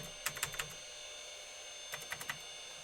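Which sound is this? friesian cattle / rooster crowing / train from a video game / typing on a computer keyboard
typing on a computer keyboard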